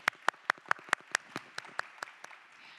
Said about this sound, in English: Can we once again give her a big round of applause?